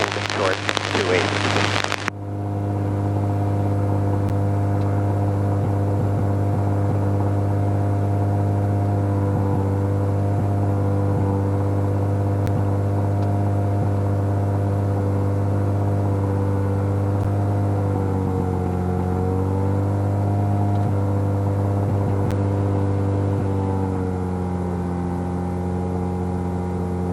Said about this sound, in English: the engine run-up sounds good